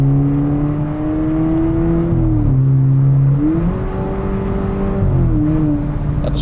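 A VW Polo GTS Stage 3 engine revs up and down with a throaty, burbling full stainless sport exhaust, loud and close, pitch rising and dipping through several throttle changes.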